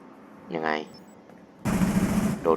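Automatic gunfire in the video game Rainbow Six Siege, a sustained loud burst of rapid shots following a short spoken remark, with a voice talking again right at the end.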